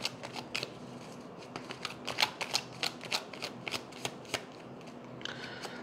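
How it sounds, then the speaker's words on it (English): Tarot cards being shuffled repeatedly, with crisp riffling bursts in a quick irregular rhythm, close and fairly quiet. "One more shuffle."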